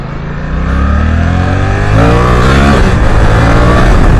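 A loud Suzuki GSX-8S sport motorcycle engine revving up through rising pitch toward 9,000-10,000 rpm, climbing steadily and holding a high, sporty whine.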